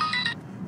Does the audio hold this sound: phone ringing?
yes